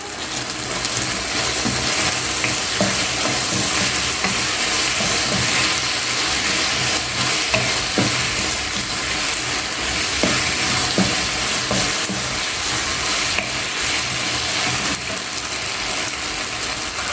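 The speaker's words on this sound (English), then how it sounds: "and then you stir that all together" Chicken Thai stir fry sizzles loudly and continuously in a hot pan, with steady spatula scraping and clinks from stirring throughout, close up and without any voices.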